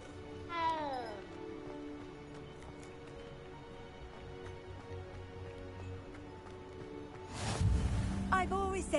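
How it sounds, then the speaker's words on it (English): A cat meows in Hogwarts Legacy, with a short rising call near the start over soft ambient game music and a courtyard backdrop, followed later by a louder burst of sound. "Ooh, another kitty."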